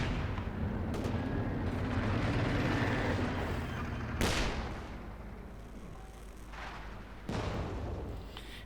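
Infantry support gun barrage in Company of Heroes 2, a World War II strategy game: loud, broad booming blasts and rumble, with sharp impacts near the middle and end.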